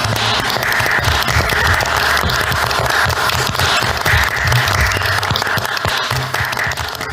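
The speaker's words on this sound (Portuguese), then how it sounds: "Palmas." A crowd applauds with dense, continuous clapping that stays loud and even throughout.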